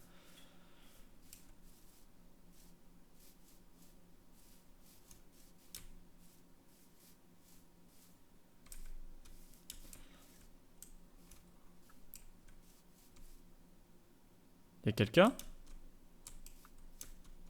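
Faint, scattered computer keyboard clicks tap away in the background under a low hum, followed by a brief spoken question and a sharp sweeping noise.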